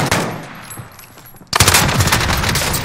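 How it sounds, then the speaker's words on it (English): Automatic gunfire in Warzone, with a quieter stretch of scattered shots that abruptly gives way to loud, rapid, close bursts of fire filling the second half. "I'm taking fire!"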